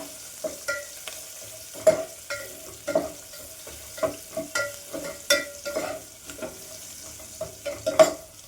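Garlic frying in a pan toward golden brown for a drumstick stir-fry: a steady soft sizzle broken by repeated scraping stir strokes, close up, with no talk.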